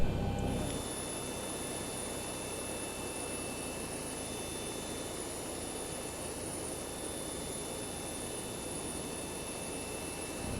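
Steady jet engine whine and rumble in the X-Plane 11 flight simulator as an airliner engine spools up on the ground, a continuous drone with a high pitched tone holding steady throughout, no voices.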